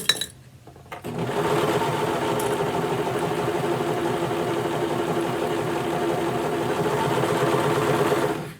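A sewing machine loaded with black thread runs in one continuous, steady, loud whir after a brief quiet start, close up and with no talking.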